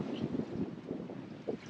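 Wind gusts buffet a sailboat cruising the Aeolian Islands at about 18 knots, producing soft, irregular rushing and low rumbling bursts close to the microphone, with no talking.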